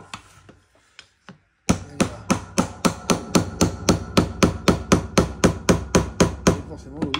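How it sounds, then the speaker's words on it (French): A small hammer taps on a blade, a long run of about twenty evenly spaced, sharp metallic strikes, close and clear after a few softer knocks. "Voilà, le petit marteau."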